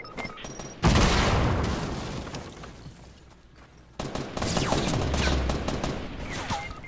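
Rapid bursts of automatic gunfire in Fortnite, loud and close, one heavy barrage fading away before a second dense volley of shots kicks in with crashes and booms.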